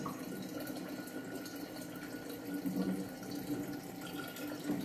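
Water runs steadily from a home water dispenser being drained after cleaning, a continuous soft trickling flow at close range with no talk over it.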